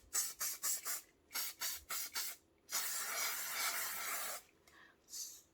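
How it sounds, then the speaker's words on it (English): Several short hissing bursts from a silicone spray aerosol can onto resin rune stone molds, then one long sustained spray of about two seconds, followed by a final brief burst. "give them both a blast with my silicone spray"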